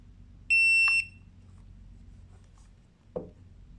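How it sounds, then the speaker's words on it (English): A Mata T2 tire pressure monitor gives one clear, high electronic beep lasting about half a second as its set button is held, followed later by a faint click in a quiet room. "Hold the set button until you hear a beep."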